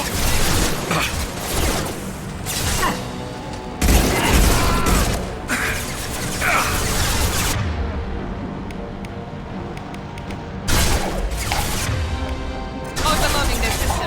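Gunfire in the video game Mass Effect 2, loud dense bursts of shots and impacts in uneven clusters with brief lulls, close and continuous across the battle, with voices shouting amid the shooting.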